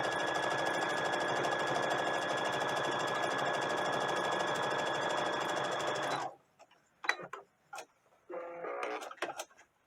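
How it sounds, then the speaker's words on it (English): Sewing machine running a straight line of stitching to form pin tucks on an heirloom Easter dress, a steady, rapid mechanical whir for about six seconds, then stopping, followed by a few light clicks and handling sounds. "I'm just going to sew a straight line from the beginning to the end, keeping that as straight as I possibly can"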